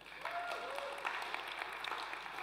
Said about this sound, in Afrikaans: Kan ons vir hulle 'n hande klap gee?